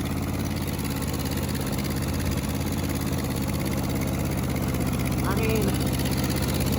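A worn-out Ford 8N tractor engine runs hard and steady through tire burnouts, a loud continuous rumbling drone with someone talking over it.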